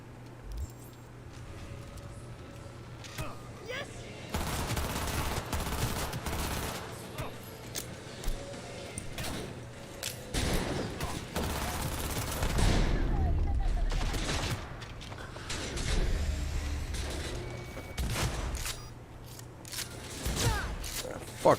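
A submachine gun fires in Cyberpunk 2077 in Night City, in several rattling bursts of varied length, some loud and close, with booming hits and quieter gaps between volleys.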